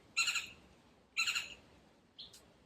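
Birds calling outdoors, with two loud, bright bursts of repeated calls about a second apart, then a shorter, fainter chirp. No voices are heard.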